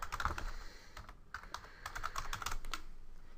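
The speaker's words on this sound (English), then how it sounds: "Type your message subject," Rapid, uneven clicking of keys on a computer keyboard as someone types a message, close and clear with no voices.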